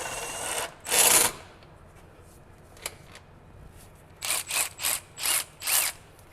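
A handheld impact wrench works on bolts of a 1966 Ford Mustang, firing one short burst, then after a pause a quick series of five rattling bursts, close and fairly loud.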